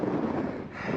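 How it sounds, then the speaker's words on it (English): Wind gusts across an exposed, rocky trail near a cliff edge, a brief rough rumble of buffeting against the microphone with no voices. "Can't get a bike shot without the wind blowing the bike over."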